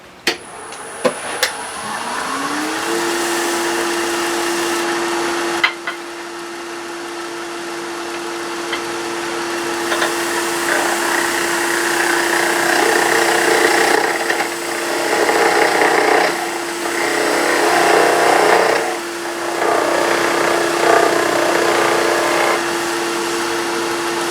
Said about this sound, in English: I've set up a vibration there that I can't get out with the skew